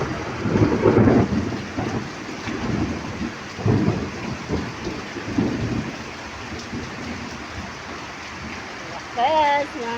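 Heavy rain pours steadily while deep thunder rumbles in several rolling bursts; a voice briefly speaks near the end.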